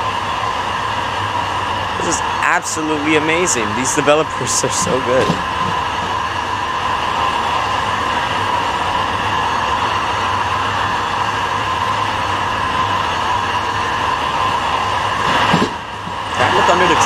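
A train in the Roblox game Trainware gives off a steady, loud rumbling hum with a constant engine drone, while a person talks briefly over it near the start.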